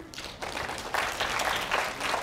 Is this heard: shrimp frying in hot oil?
no